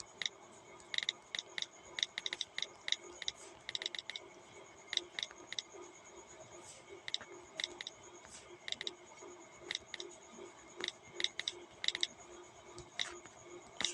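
HTML code being typed on a computer keyboard gives irregular clusters of light, crisp key clicks with short pauses between bursts, close and fairly quiet.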